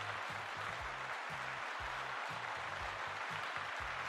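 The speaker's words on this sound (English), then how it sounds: "All right, let's give Lua a round of applause, please." Steady applause from a crowd, dense and continuous, with no voices standing out above the clapping.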